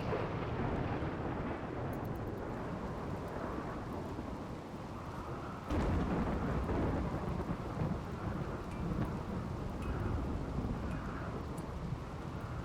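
Thunderstorm with steady heavy rain in the video game RimWorld, a constant dense hiss with a sharp lightning crack and rolling rumble partway through.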